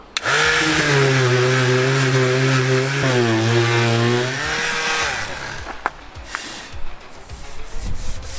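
Body filler on a car being sanded with a power sander, a loud continuous whirring grind for about five seconds with a brief dip, then stopping into quieter scraping and rubbing noises.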